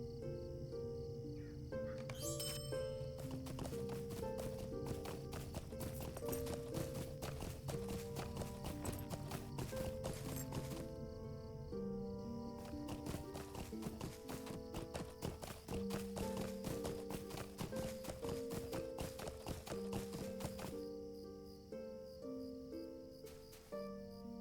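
Hooves clip-clop steadily as a horse is ridden in LOTRO, a game, with a fast, even rhythm running under continuous music at low volume.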